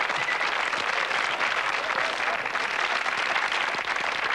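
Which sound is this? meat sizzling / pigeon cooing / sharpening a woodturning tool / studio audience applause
studio audience applause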